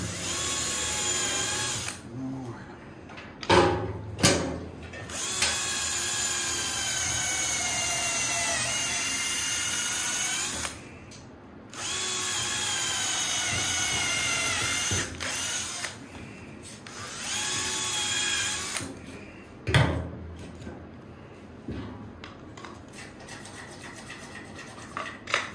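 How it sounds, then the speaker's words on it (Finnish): A power drill whines loudly in long sustained runs while drilling a pilot hole in a firewood processor conveyor, its pitch shifting under load, broken by brief pauses and clunks of handling. "sitten tuolla mitoituksella lähtee koittamaan porata vähän merkkireikää tonne"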